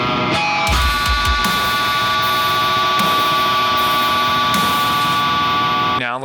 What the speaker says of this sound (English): So let's track some feedback here.